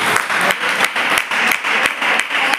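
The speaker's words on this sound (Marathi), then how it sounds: "आपण पण जोराने टाळ्या वाजवून प्रभूला धन्यवाद देऊया." A church congregation claps together in thanksgiving, loud close applause that comes in rhythmic bursts of hand claps with brief dips between them.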